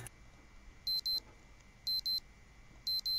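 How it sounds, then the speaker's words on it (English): An alarm clock in Project Zomboid beeps in repeated pairs of shrill electronic tones, three double-beep bursts evenly spaced over a low steady hum. "Oh, that's my alarm."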